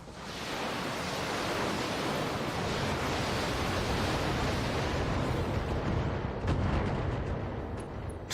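A mech unleashes a missile barrage in the BattleTech game, a long roaring rush of launches and impacts building into a sustained loud wash, with a few sharper cracks near the end.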